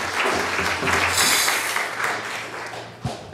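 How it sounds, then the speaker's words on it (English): Steady applause from a church congregation fills the whole stretch, a dense wash of clapping at an even level. "How about a big round of applause?"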